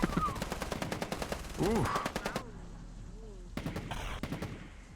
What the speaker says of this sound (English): Nothing like the smell of gunfire in the morning, right?